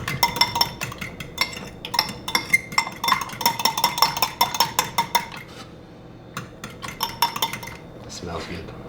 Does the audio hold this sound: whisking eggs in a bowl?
yes